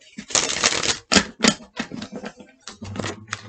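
Tarot cards shuffled in a series of quick riffling bursts, close and fairly loud, with brief pauses between and a soft low hum near the end.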